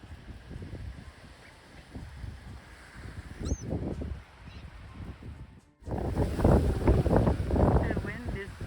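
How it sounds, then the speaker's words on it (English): Strong wind roars and buffets a microphone outdoors where crows, seagulls and a magpie gather, a steady rushing gust that briefly drops out, then returns louder and harsher, with faint bird calls and murmured voices beneath. "The wind is so strong,"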